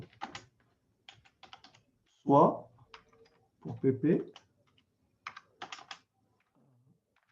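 Keys clack on a wireless computer keyboard in quick, scattered bursts of clicks, close by, while someone speaks French intermittently between them.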